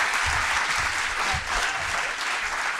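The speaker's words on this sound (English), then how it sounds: "can we have a big round of applause for Al and everyone here at the venue?" Audience at a live comedy podcast show applauds steadily and loudly for nearly three seconds, a dense continuous wash of clapping with no voices over it.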